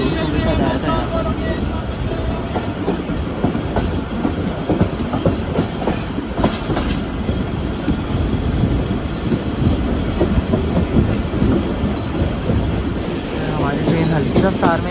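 The Pak Business Express passenger train rolls slowly past at close range, a continuous loud rumble with rhythmic clickety-clack of wheels over rail joints and occasional squeals throughout.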